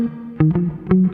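Bass guitar played through plate reverb with pre-delay, in a 1973 soul-funk bass line. A few punchy plucked notes each keep a clear attack before a short reverb tail, alone with no talk.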